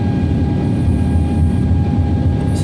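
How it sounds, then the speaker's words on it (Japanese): Steady, loud roar of a JAL Airbus A350 jet engine as the airliner begins its takeoff, a dense unbroken rumble heard from inside the cabin with a faint high whine above it. "さあ、いよいよ離陸いたします。"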